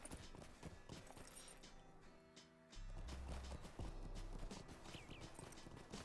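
Horse hooves clop in a video game, loose footfalls over low ambience, then a deep droning tone and a whinny rising faintly near the end, with no talking.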